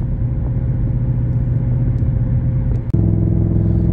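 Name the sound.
car exhaust rumble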